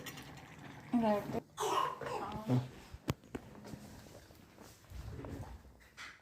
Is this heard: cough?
yes